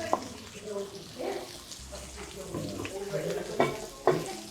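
Onions seasoned with salt and pepper sizzle and get stirred in a pan during a student cooking session in Morocco, steady frying with scraping stirs and a few sharp clinks under people talking.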